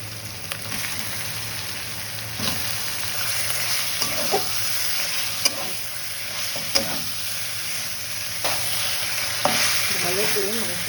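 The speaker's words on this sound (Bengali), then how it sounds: "এবার দিয়ে দেবো মাংসগুলো দিয়ে দেবো।" Chicken marinated with lemon, turmeric, salt and oil fries in a pan with a steady, moderate sizzle, broken by occasional sharp scrapes and knocks of a spoon stirring the meat.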